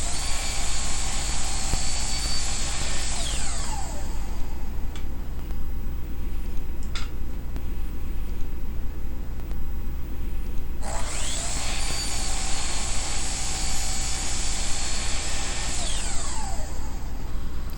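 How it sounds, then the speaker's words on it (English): A loud miter saw whines steadily, its pitch dropping as it bites through pallet wood, spinning down, then revving up again for another cut. "It was time to square one end of each blank, and I did this on the miter saw."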